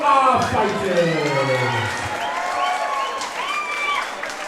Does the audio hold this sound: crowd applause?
yes